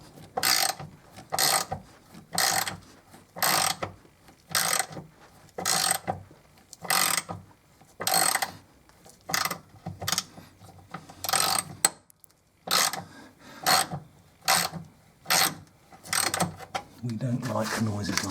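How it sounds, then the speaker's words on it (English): A socket wrench works a roll bar bolt on a 2001 Mercedes SLK, giving about fifteen repeated bursts of close, loud ratcheting and mechanical clicking, each roughly half a second long, with brief pauses between them. "I think that was just the socket loosening."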